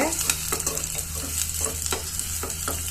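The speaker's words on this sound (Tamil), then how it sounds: "இப்போ இந்த வெங்காயம் நல்லா பொன்னிறமாக பொரியட்டுங்க." Chopped small onions frying in oil for drumstick sambar, a close, continuous sizzle broken by repeated scraping stirs of a spoon in the pan at a fairly regular pace.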